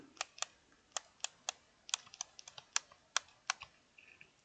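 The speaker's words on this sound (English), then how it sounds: "there's this weird clicking when the sticks get to the sides" Analog sticks of a Switch PowerA FUSION controller clicking as they reach the edges, a series of sharp, quiet, close-up clicks at irregular intervals, alone without talk.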